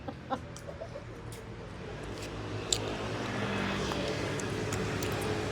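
A few short clucks from a rooster sound near the start, then give way to a steady wash of outdoor background noise.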